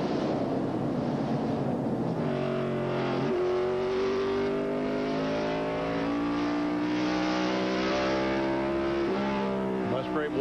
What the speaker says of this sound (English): Musgrave watches as Dale Jarrett just drives away a car length or so